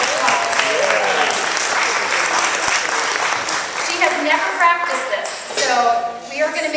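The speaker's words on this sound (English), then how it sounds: "everybody give Pat a real big round of applause" An audience applauds for Pat, a woman living with ALS, in a sustained round of clapping that fades partway through while voices begin talking over it.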